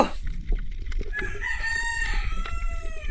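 A rooster crows loudly with a long, wavering call that stretches across the clip, with faint clucking and farmyard rustle around it.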